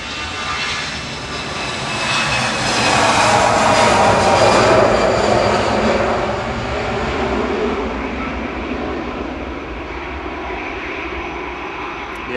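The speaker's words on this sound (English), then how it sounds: "EasyJet to Bilbao now, GEZUF with flight 2005." An EasyJet passenger jet departs Manchester Airport on a flight to Bilbao, its broad engine roar swelling to a peak and then slowly fading away, steady and fairly loud throughout.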